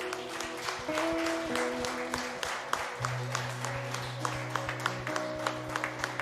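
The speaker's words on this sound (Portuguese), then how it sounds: "você pode aplaudir ao Senhor" A church congregation applauds during a worship service, with sustained tones of music underneath. Steady, moderately loud clapping from many hands continues throughout.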